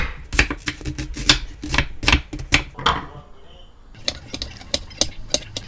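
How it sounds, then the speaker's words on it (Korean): A knife chops potatoes, red onion and carrot rapidly on a cutting board in quick, uneven bursts, pauses briefly, then resumes with lighter taps; close and crisp, no talking. "이제 재료를 다 썰었어"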